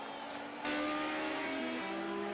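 Touring race cars charge down the back straight, a loud engine roar that jumps up sharply and then holds with shifting pitch as the cars accelerate past, close and continuous with no voices.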